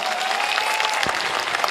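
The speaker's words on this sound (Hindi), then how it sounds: "पहले तो उसके लिए एक बार जोरदार ताली।" An audience at a poetry recital breaks into loud, steady applause, dense clapping from a crowd sustained throughout with a brief voice rising above it.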